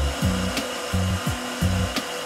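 A Hilti DD 350-CA 3600-watt core drill, fixed with a vacuum base on a Hilti DST 20-CA setup, bores through a concrete wall. Close, loud motor whine surges and dips in repeated waves, with no talking.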